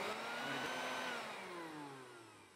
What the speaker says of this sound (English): Now we're gonna test out the vacuum trap with our pet mouse.